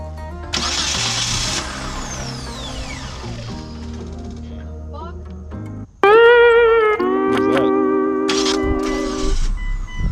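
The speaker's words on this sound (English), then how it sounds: "Hit the starter one more time" A 2002 Mitsubishi Lancer OZ Rally with a newly replaced starter cranks and fires up, the starter whirring briefly before the engine catches with a loud, sudden surge and settles into a rough, uneven idle nearby.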